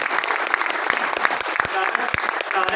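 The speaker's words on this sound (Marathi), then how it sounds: "त्यामुळे जोरदार टाळ्या होऊन द्या," A live audience breaks into hearty applause, with a thick wash of many hands clapping and sharp individual claps standing out, voices faintly mixed in underneath.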